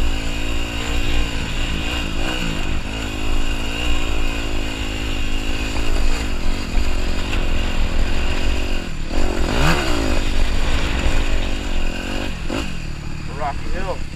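A dirt motorcycle rides up and down rocky hills in an open lot, its engine droning and rising and falling in pitch as the throttle changes, loud and close throughout, with a rider talking over it at times.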